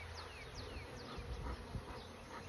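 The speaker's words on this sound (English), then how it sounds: "There are so many bees." Dense swarm of honeybees buzzing steadily at an open beehive during a May inspection, a close, continuous drone with individual bees whizzing past the microphone.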